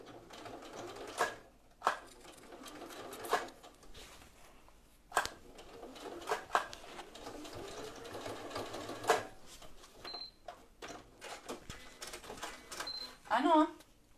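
A sewing machine stitches a camisole in short bursts of rapid mechanical whirring separated by pauses, with people talking over and between the runs.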